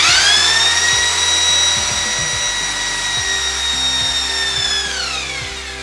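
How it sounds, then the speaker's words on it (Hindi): Handheld drill machine with normal and hammer modes boring into a surface in normal mode, a loud continuous high motor whine that holds steady for several seconds and then drops in pitch as it slows, with grinding underneath. "ये देखिए मैं इसे नॉर्मल मोड में ड्रिल करता हूँ"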